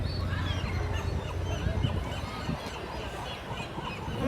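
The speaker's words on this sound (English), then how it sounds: "Oh, look at all those birds." A flock of birds, goose-like, honking and squealing at a San Pedro harbor, overlapping calls over a steady noisy outdoor background, fairly loud and continuous.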